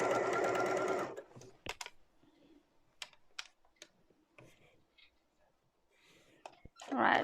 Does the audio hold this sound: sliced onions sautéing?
no